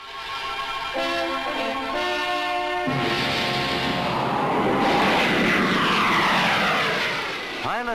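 A British aircraft roars low over the Farnborough air show in the late 1950s or 1960s, its loud engine drone swelling and shifting in pitch as it passes, ending in a fast sweeping whine.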